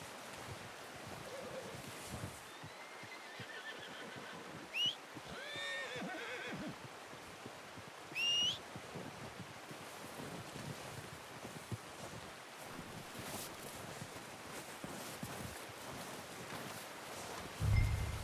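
Horse whinnies twice in Red Dead Redemption 2, short bright neighs standing out over a steady outdoor bed of wind and ambient noise, with faint hoof and movement sounds underneath.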